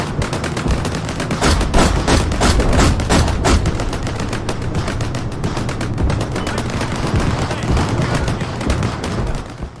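Tank gunfire in a battle crackles as dense, rapid volleys of shots and bursts over a constant rumbling din, loud and sustained without pause.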